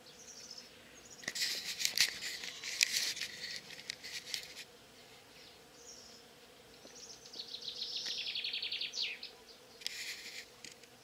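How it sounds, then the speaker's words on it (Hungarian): Bees buzz around a tree in a meadow left unmown until May, several close passes of droning wings rising and fading in bursts over a quiet outdoor background with faint bird calls. "Szépen zümmögnek ezen a fán"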